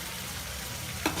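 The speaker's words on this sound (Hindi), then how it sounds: "मसाला तैयार है, भून चुका है।" Onion masala fries in oil as a soft, steady sizzle that goes on alone, with a single brief scrape or clink near the end.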